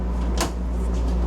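French doors of a refrigerator in a 2026 American Eagle luxury motorhome, heard as a single close click and thump of a door opening over a steady low hum.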